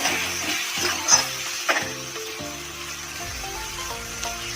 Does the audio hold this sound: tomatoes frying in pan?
yes